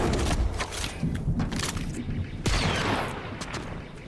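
Rapid gunfire from the video game Fortnite, dense bursts of shots crackling continuously with one sharp louder report partway through, fairly loud and busy throughout.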